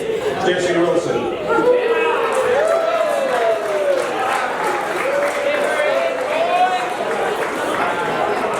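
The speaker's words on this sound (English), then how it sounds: "So a huge round of applause for this year's 2020 graduates." A crowd at a 2020 graduation ceremony gives a sustained round of applause for the graduates, steady clapping and cheering running throughout, with a voice carrying over the top.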